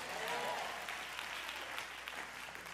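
A church congregation applauds in steady, dense clapping that fills the whole stretch, fairly loud and even, with no voices standing out.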